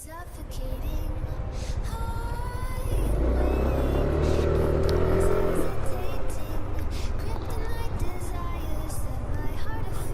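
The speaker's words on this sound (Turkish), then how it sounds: "Gaz verdiğim anda çalışıyor." Yamaha NMAX 155 scooter, a 2021 model, idling close by then revving up for a few seconds in the middle before settling back to a steady run, alone without talk.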